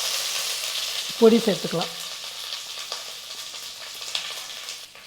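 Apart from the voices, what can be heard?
curry leaves and mustard seeds sizzling in hot oil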